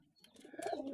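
Pet birds coo softly close by, a low rolling murmur of doves or pigeons with a faint chirp near the start.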